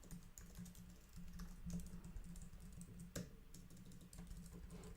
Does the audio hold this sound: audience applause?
no